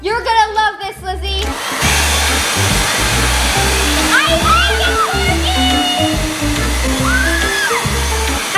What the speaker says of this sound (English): Now we can use the blow dryer.